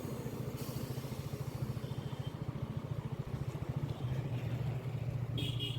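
A motorcycle carrying two riders hums along a road in a steady, fast-pulsing engine drone heard up close, with wind rumble and slight shifts in pitch as it travels.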